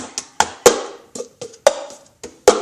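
Cup song played with a plastic cup and hands: a steady pattern of crisp taps, scrapes and sharp smacks on a tabletop, moderately loud and close, repeating in a bouncy rhythm with no talking.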